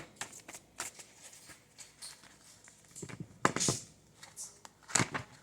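Tarot cards are shuffled by hand in a series of soft riffles and flicks, with brief pauses and a few louder snaps, close by.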